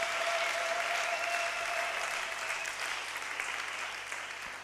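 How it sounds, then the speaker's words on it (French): Church congregation applauding during a French-language sermon, a broad wash of clapping that holds steady and then slowly thins out toward the end, heard fairly distantly. "Applaudissez pour vous-même."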